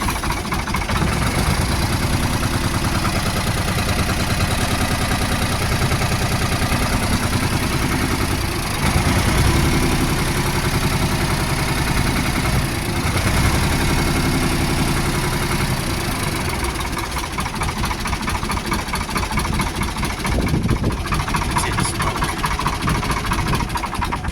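A fuel-starved engine cranks and runs at idle, its uneven mid and low rumble holding close and loud throughout with slight wavering and no talk over it.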